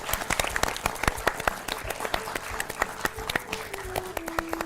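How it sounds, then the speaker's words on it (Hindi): Audience applause on a children's startup-lesson show, made of sharp, distinct claps in an uneven, sparse rhythm, fairly close and moderately loud, with a low hum creeping in toward the end. "तालियां!"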